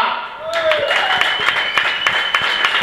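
A live crowd at a metal show in a club claps and cheers for the singer, and a voice carries through over the clapping near the start.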